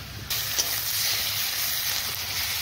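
Spice mix added to onions and chillies frying in a pan for beef curry gives a steady, close hiss and sizzle that jumps louder after a quiet start and holds evenly to the end, with no talking.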